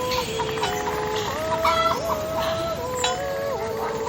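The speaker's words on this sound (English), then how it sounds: "add a calm breeze, some cowbells and chickens clucking" Chickens cluck steadily in a calm Swiss Alps scene, a string of wavering, tonal clucks and short calls at moderate distance over a soft, constant background hiss.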